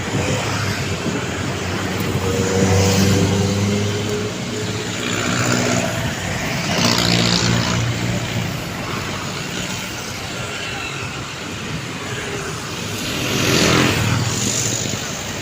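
Busy road traffic with many passing cars, a continuous loud roar that rises and falls as vehicles sweep by, with some voices mixed in beneath the noise.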